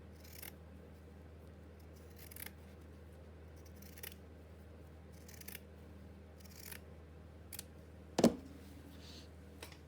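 Scissors snip through hessian fabric in a handful of quiet, scattered cuts over a steady low hum, with one sharper, louder snip near the end.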